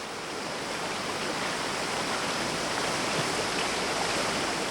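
The Lower Falls waterfall in Glen Nevis roars as a steady, dense rush of falling water, loud and constant throughout with no voices.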